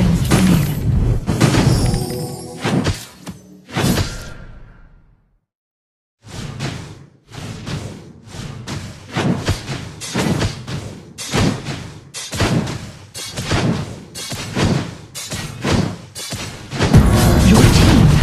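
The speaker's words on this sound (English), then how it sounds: "Your team has destroyed a tower." Tower being destroyed in the mobile battle game Arena of Glory: a rapid string of loud crashing, shattering impacts with a brief silent gap partway through, then more dense, repeated hits and smashes.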